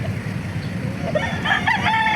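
Chickens cluck and a rooster crows amid a busy outdoor poultry market in Bocaue, Bulacan, the calls fairly close and overlapping.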